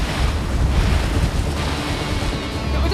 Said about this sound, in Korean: 오늘따라 거칠어진 바다.